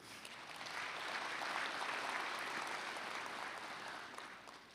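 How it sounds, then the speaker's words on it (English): Sustained audience applause at an opening ceremony, a dense crowd of clapping that swells and holds steadily for several seconds with no talking over it. "A big round of applause to you."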